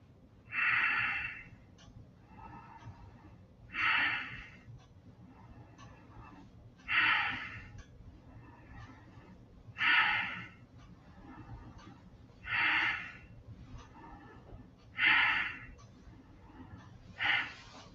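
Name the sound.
deep breathing in and out during exercise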